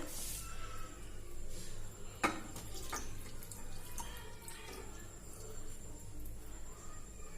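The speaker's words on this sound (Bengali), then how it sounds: "তো এই দুধটাকে আমি মিশিয়ে দেব তালের মধ্যে। তো ঢেলে দিচ্ছি দুধটা।" Boiled milk is poured into palm fruit pulp, a continuous soft liquid pouring rush close by, with a brief clink of a vessel partway through.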